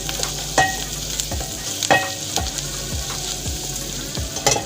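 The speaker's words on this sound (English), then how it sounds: "go ahead and add in your garlic and ginger, and then stir them also until they cook" Garlic and ginger sizzle in a hot pan while a utensil stirs and scrapes them, a handful of distinct knocks against the pan standing out over the steady frying hiss.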